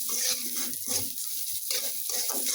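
Onion and green chili fry lightly in a pan, giving a steady close sizzle broken by repeated scraping stirs at an uneven rhythm, with no voices.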